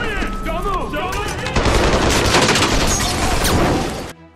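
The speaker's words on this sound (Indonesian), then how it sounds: "Danny dan Jojo menyerang para agen dan memicu baku tembak" Film shootout gunfire during a raid, with loud, dense rapid shots in sustained bursts that build after a brief stretch of voices and background sound, then cut off abruptly.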